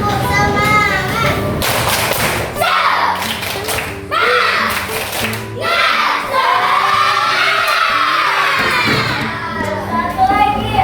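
A classroom of schoolchildren doing a rhythmic clapping chant in Indonesia, loud group voices shouting in unison with sharp sets of claps in a repeating pattern, close and continuous.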